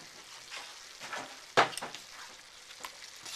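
Canned diced tomatoes being stirred into a hot frying pan, a soft sizzle with scraping stirs and one sharper clink of the utensil midway, fairly quiet and close.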